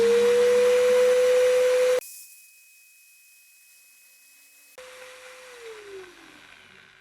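A Bosch GWS 060 angle grinder whines loudly at a steady pitch for about two seconds, cuts out into near silence, then starts again and its tone sags and fades as it spins down.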